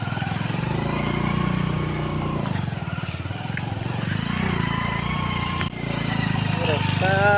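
A two-wheeler motorcycle engine drones steadily while the rider inches along a rough stone path on the way to a temple, with rattling over the rocks and a person talking over it.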